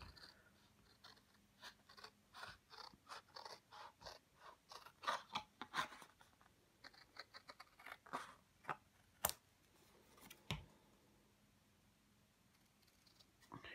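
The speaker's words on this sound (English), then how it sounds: "And then cutting out with some scissors" Scissors cut out paper pieces for a tangram, giving a long run of quiet, close snips in an uneven rhythm with soft paper rustles between the cuts, and a few sharper clicks near the end.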